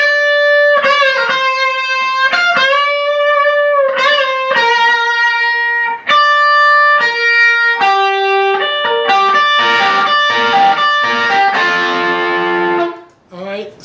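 Electric guitar picking out a solo phrase from a song, distorted and effects-laden, with sustained bent notes and quick runs building into a dense flurry near the end.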